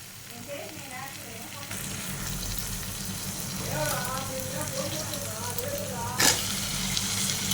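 Onions and tomato soften in a pan for a simple Nellore-style curry, giving a soft, steady sizzle with light stirring. Faint voices murmur over it, and one sharp clatter sounds near the end.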